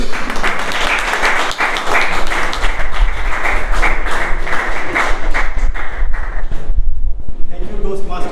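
An audience at a Toastmasters club meeting bursts into loud, sustained applause to welcome the Toastmaster of the day, dense clapping lasting several seconds before tapering off, with a few voices mixed in.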